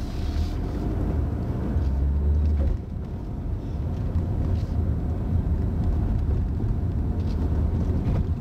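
A car driving along during a driving lesson: a steady low engine and road rumble fills the cabin throughout, loud and continuous with no speech over it.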